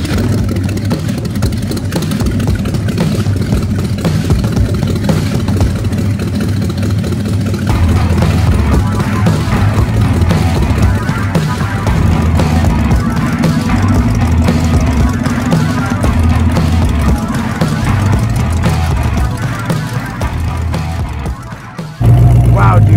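A loud custom chopped-and-dropped 1929 Ford Model A hot rod drones steadily under way, its engine rumbling continuously for over twenty seconds before cutting off abruptly.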